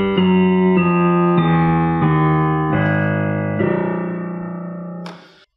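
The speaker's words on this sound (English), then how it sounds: "We have this bass line that sounds something like this." A descending bass line from a Brazilian song is played as a sequence of sustained, evenly spaced notes, each one stepping lower and ringing clearly on its own before ending with a brief click.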